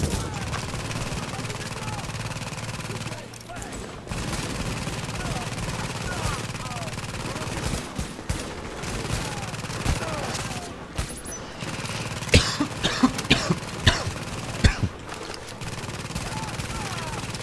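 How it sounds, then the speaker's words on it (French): Rapid gunfire hitting an enemy shield in the video game The Division, dense bursts of shots with sharp impacts near the end, mixed into steady in-game noise under talk. "Je tire dans le bouclier"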